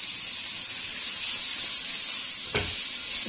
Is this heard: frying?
yes